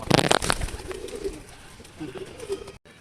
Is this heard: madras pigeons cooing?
yes